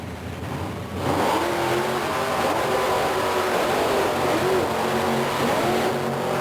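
Two monster trucks, a Chevrolet pickup and a Ford Bronco, race head to head at a 1990 event in Myrtle Beach, South Carolina; loud engines roar up and sustain a heavy revving drone, with an announcer faintly underneath.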